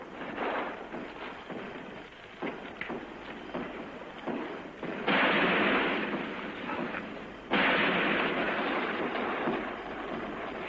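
Fireworks bursting in a western film, a dense crackling barrage with two louder booming volleys midway, thick and continuous throughout.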